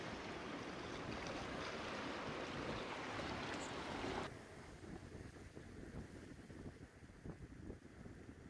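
Steady rushing wind and surf wash over the scene, a broad roar that drops slightly midway and continues as a lower, churning wash of water.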